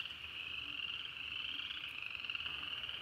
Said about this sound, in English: We got frogs. Frogs in the background.